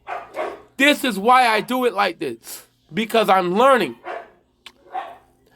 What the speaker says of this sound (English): my dog is basically barking because she wants to be on the show too